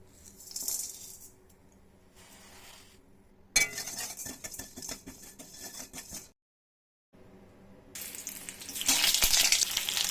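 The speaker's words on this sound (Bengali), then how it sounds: "আমি প্রথমে শুকনো খোলায় ধনে, গোটা গোলমরিচ, এলাচ আর দারুচিনি, পোস্ত, জিরে ভেজে নেব" Whole spices roast dry in a pan: coriander, peppercorns, cardamom, cinnamon, poppy seeds and cumin. They rattle and clink as they are tossed, with a faint crackle, in intermittent close bursts separated by short silences.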